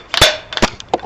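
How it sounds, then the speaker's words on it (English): An airsoft grenade drops out of an airsoft grenade launcher with a few sharp, close clacks and knocks in quick succession, loud and percussive, no one talking. "Now watch the grenade fall out."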